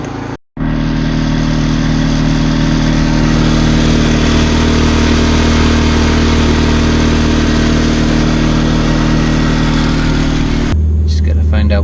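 A portable generator engine installed in an RV runs loud and steady at a constant drone close by. It starts abruptly after a brief pause and cuts out sharply near the end, leaving only a low hum.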